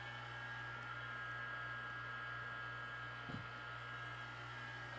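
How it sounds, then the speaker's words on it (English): A vacuum pump runs for transmission valve body testing, giving a steady, faint, even motor hum with a constant tone, and a small knock part-way through. "If we turn our vacuum pump on, first thing we want to do is calibrate."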